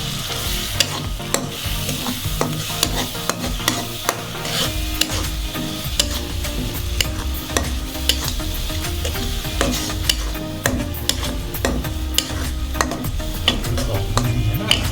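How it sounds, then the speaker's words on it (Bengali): Crab curry ingredients sizzle and fry in a pan while a spoon stirs them, with steady crackling and frequent metallic scrapes against the pan throughout. "এবারে সকল উপকরণগুলো একসাথে নাড়াচাড়া করব যাতে পুড়ে না যায়।"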